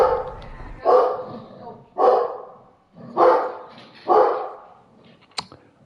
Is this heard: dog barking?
yes